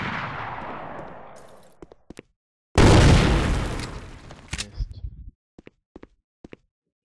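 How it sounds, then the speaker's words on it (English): Thumper grenade launcher blasts in a video game: a fading boom, then a loud, broad explosion that tails off, followed by scattered sharp clicks and footsteps, with brief talk. "I'm using a thumper"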